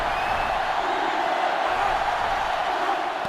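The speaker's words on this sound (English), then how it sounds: "They're really struggling now as this crowd is going absolutely insane." A stadium crowd in the NCAA Football 2005 video game on GameCube roars continuously during a Clemson versus Georgia matchup, a dense, loud, unbroken wall of cheering with no distinct voices.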